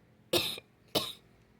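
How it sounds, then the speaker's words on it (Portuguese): Two sharp, close coughs from someone with a cold, sitting near a campfire, spaced about half a second apart with quiet between them. "ainda mais que eu tô tossindo, que eu tô com a tosse"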